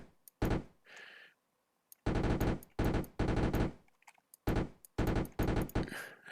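Tank guns firing in the video game Arms Trade Tycoon, loud close bursts of rapid automatic fire in several separate volleys with short silent gaps between them.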